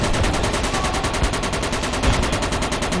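Dense, rapid automatic gunfire fills a Project Reality battle, with the shots cracking loud and continuous and no pause for the whole burst.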